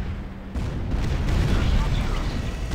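Artillery shelling in the Art of War 3 strategy video game, heard as a heavy boom followed by a continuous deep, rumbling barrage of blasts close and loud.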